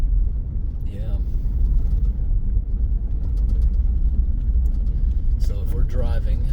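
A car drives along an abandoned mountain auto road at about 20 miles an hour, giving a steady, loud low rumble of engine and road noise throughout, with brief voices talking over it at a couple of points.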